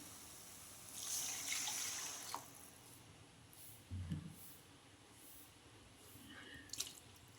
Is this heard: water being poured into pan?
yes